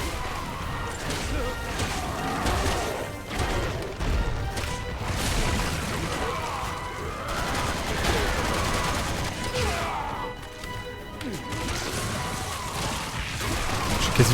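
Gunfire and impacts from the co-op video game Resident Evil 6, repeated bursts and crashes that blend together under loud overlapping talk from players throughout.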